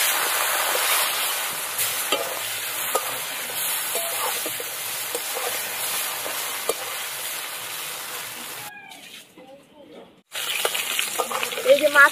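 Live koi fish fry lightly in mustard oil in a rustic kitchen, with a steady close sizzle and occasional stirring clicks, a brief near-silent gap, then louder crackling.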